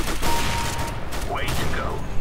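Gunfire in Counter-Strike: Global Offensive, a sniper rifle among sharp shots ringing through a burst of game action, loud and close with voices talking over it.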